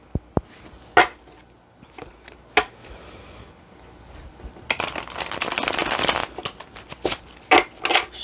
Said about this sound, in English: This deck is so thick. It's hard to shuffle.